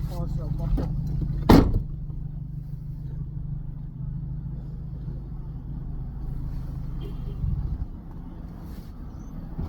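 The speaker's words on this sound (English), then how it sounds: "Let me turn this car off real quick." A car engine idles with a steady low rumble, broken by a sharp knock, and then cuts off near the end, leaving a quieter room.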